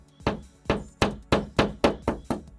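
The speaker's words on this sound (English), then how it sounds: "hammer until it goes through" Seven sharp, evenly spaced hammer blows drive a Wormie anchor through hollow wall without a drill, each strike loud and close with a short ringing decay, no talking.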